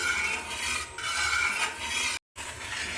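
Jackfruit stirred together with jaggery syrup in a pan for Kerala chakka payasam, a continuous thick scraping and rubbing of a spoon through the sticky mixture, broken by a brief pause.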